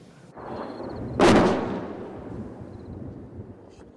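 Heavy military artillery and howitzer fire from a Hakkari Derecik battalion position: one loud, sharp blast booms out and then rolls away in a long, fading rumble, with no voices.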